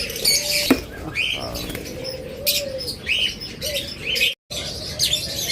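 Pet red-eyed lovebirds, a pair in a shop setting, chirping and tweeting close by in short irregular bursts with light fluttering and rustling between calls, briefly cut to silence near the end.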